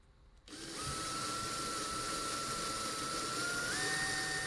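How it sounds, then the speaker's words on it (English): After a brief quiet moment a drill spins up with a 4mm bit, boring out the flange on the post of a Matchbox Mercury Cougar K-21 model car, a steady close whine that shifts pitch slightly near the end. "then the drill bit to remove the flange, I use a 4mm."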